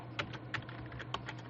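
A password is typed on a computer keyboard in a handful of quick, light key taps, close and fairly quiet, over a faint steady hum.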